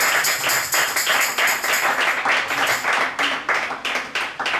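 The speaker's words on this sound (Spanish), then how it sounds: "Denle un aplauso, Señor." Church congregation clapping together, a loud, steady run of rhythmic claps at an even beat filling the room, with no talk over it.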